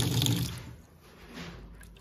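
Cool water poured into a container while preparing warm water for egg incubation: a brief close splashing gush at the start, then a quieter trickle and faint dripping.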